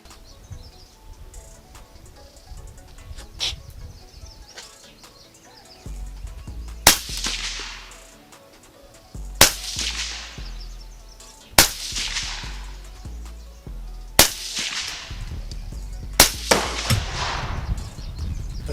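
Shotgun and AR15 rifle shots ring out at an outdoor shooting range, five sharp loud reports spaced a couple of seconds apart over a background of insects and birds.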